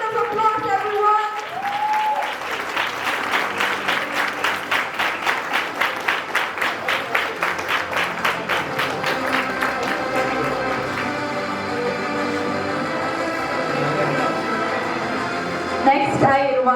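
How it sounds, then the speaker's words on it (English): An audience at a moot court competition applauds an award winner in a hall. The clapping starts sharp and rhythmic, then turns into a dense, steady roar, with a voice speaking briefly at the start and at the end. "Give him a round of applause, everyone."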